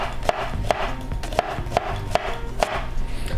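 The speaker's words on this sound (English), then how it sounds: "So what we want to do is we want to mince our onion." A knife minces onion on a cutting board in about six evenly spaced, close, crisp chops, each a sharp tap against the board with quiet pauses between.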